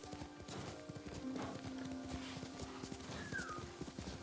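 Horse hooves clip-clopping in a steady gallop rhythm while riding in the samurai video game Ghost of Tsushima, with game music underneath and a brief whinny, fairly faint and with no talk.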